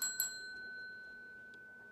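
A small hand bell gives two quick bright dings while $5 PA Lottery scratch-off tickets are being played, close and crisp, followed by a long fading ring in a quiet room.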